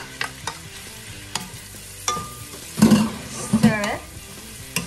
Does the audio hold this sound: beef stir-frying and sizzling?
yes